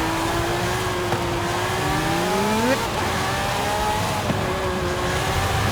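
A Lamborghini Sián Roadster's V12 screams in Forza Horizon 5, the revving tone climbing steadily, dropping at a gear change, then pulling hard again, loud and close, with a voice talking over it.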